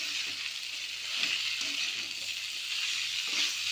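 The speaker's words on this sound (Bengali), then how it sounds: "এবার আমি এই সিদ্ধ করে রাখা ইঁচড়টা এর মধ্যে দিয়ে দেবো" Boiled jackfruit sautés in spice paste with a steady, moderately quiet hiss and faint stirring scrapes, and no voices.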